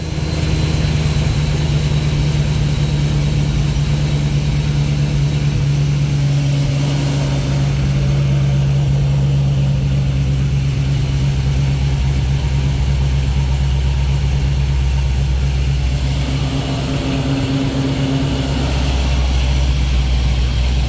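A car engine runs at a steady idle after a battery replacement, a loud, constant low hum and drone close by that continues unbroken throughout, with slight shifts in tone partway.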